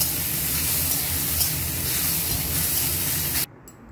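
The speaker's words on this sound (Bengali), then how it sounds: "এবারে ছোলার ডাল, বাদাম আর লঙ্কা দিয়ে আরও একবার ভেজে নেব।" Chana dal, nuts and chillies fry in a pan with a steady, loud hiss and sizzle that runs unbroken, then cuts off abruptly near the end.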